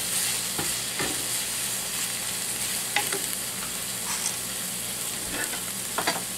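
Vegetables for pancit bihon tossed and stirred in a frying pan, a steady close sizzle broken by scraping spatula strokes at irregular intervals, with no voices.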